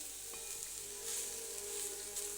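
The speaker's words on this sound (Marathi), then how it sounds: "आपण हे 4 मिनिट गाजर छान परतवून घेतले" Carrots sautéing in a pan for carrot halwa, a soft steady sizzle with faint hiss that swells slightly midway, close and alone with no voices.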